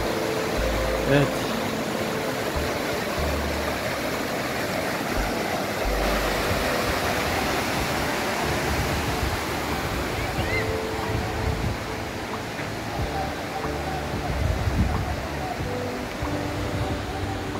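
Fırtına Deresi, a mountain stream, rushes under the historic stone Çinçiva (Şenyuva) Bridge with a constant loud roar, while people talk over the water.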